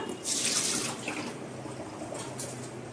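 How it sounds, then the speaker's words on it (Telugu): Water used to wash brinjals gushes out in a loud splashing pour, strongest at first, then continuing as a softer trickle and splash. "ఇప్పుడు కడిగేసిన వాటరు నేను పంపేస్తున్నాము ఇక్కడ"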